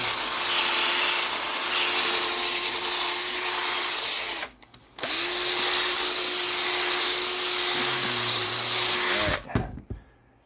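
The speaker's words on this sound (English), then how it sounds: "The next two discs are going to be for the actual buffing." A rotary tool with buffing discs polishes the headlamp lens of a 2010 Subaru Forester, a loud steady whine that cuts out briefly midway, restarts, then stops near the end.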